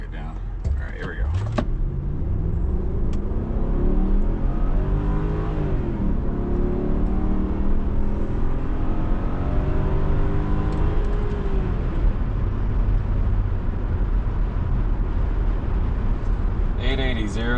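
A Land Rover accelerates hard in a 0 to 60 run, the engine rising steadily in pitch through gear changes from inside the cabin, loud and continuous, with people talking over it at the start and end.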